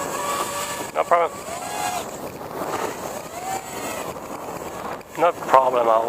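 Gusty wind buffeting a microphone outdoors, low rumbling blasts that rise and fall throughout, with a person talking over it in short stretches.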